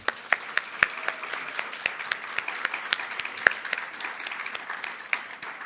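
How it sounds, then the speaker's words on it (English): A roomful of people claps for cancer patient advocates standing up at a cancer symposium, with loose, individually distinct hand claps in a sparse, uneven rhythm that stays steady and moderately close. "we can give them a round of applause"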